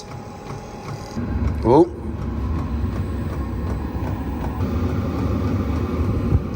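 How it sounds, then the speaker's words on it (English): A Chinese diesel heater set up in a workshop starts its burner, giving a steady low rumbling drone that runs throughout, with a brief louder rising burst early on and a short spoken exclamation. "That sounds like a burner noise."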